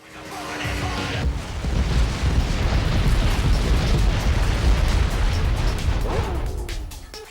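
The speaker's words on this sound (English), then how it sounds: "Placing a remote mine next to them and blowing it up stops the music" Remote mine blast in the vehicular combat video game Twisted Metal: Head On, heard as a loud, sustained rumbling roar with heavy low-end crackle that keeps going for several seconds before fading.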